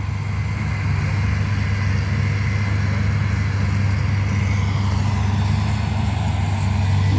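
A mechanized sugarcane harvester's engine runs steadily during a cane harvest, a loud, constant low drone with mechanical rumble that holds unchanged for several seconds, heard up close with no talk.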